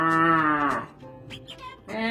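A human voice imitates a cow for a cow puppet: one drawn-out, droning moo, then a few shorter vocal sounds, close and clear.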